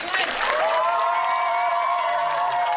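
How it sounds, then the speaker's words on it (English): An audience claps for a visiting magician at a summer camp, a steady wash of hands under a sustained voice-like tone that may be a cheer or a singer. "Big round of applause for magician Brian"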